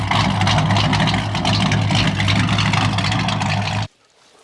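A car fitted with a new exhaust runs loud and close, its deep engine note steady and rumbling for nearly four seconds before cutting off abruptly into near silence.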